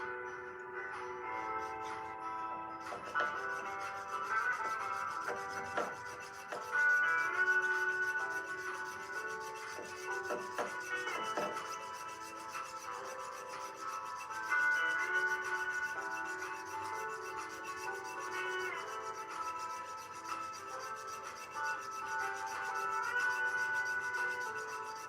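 Fine jeweler's saw cutting through a coiled stack of sterling silver jump rings held on a Durston former, a steady close rasping rub that continues throughout with brief pauses and a faint ringing tone, no talking.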